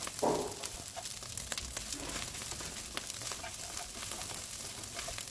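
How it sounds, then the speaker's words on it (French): Basmati rice being stirred with spices in a frying pan over high heat for pilaf, giving a steady close sizzle with soft scraping strokes of the spoon throughout, no voices. "c'est important de mélanger sur feu vif, comme vous le remarquez ici, votre riz avec les épices."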